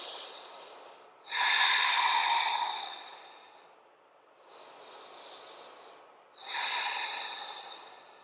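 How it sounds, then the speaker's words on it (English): Slow, deep breaths during a yoga stretch, each a long airy inhale or exhale swelling and fading, three breaths over several seconds, close and fairly quiet with no talk. "Just take another deep breath here."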